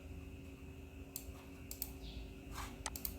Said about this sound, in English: right click and just click on that